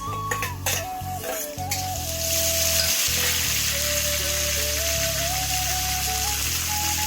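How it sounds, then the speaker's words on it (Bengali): Shrimp hits hot soybean oil already holding fried onion and garlic, giving a loud, steady sizzle with the scrape and clatter of a stirring spoon against the pan, and no talking. "পেঁয়াজ রসুন ভাজা হয়ে গেছে, এখন দিয়ে দিলাম সিঙ্গুর মাছ"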